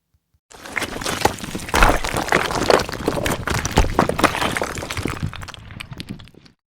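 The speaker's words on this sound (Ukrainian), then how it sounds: "камінь стукотить." Stones knocking and clattering together, a dense run of sharp hard clicks over a rough, rushing background, fairly loud and close.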